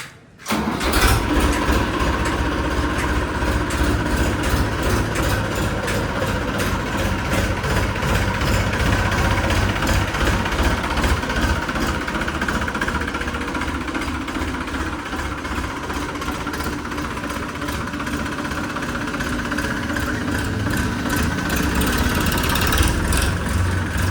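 Massey Ferguson 7250 tractor engine cranks and catches, then settles into a loud, close, steady diesel idle with a low rhythmic throb that continues throughout.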